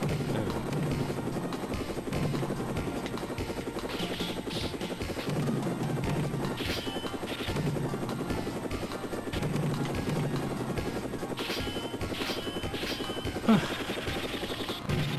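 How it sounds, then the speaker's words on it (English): A helicopter enemy in a Konami arcade game: steady rotor thrum and engine whine fill the whole stretch, loud and continuous, with a brief crash-like burst near the end. "very tedious fight against this helicopter"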